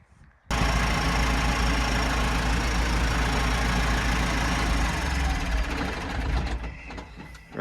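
A Ford 6150 tractor engine starts abruptly after a moment of quiet, then runs at a steady, loud, close-up idle with a continuous low rumble that eases slightly toward the end.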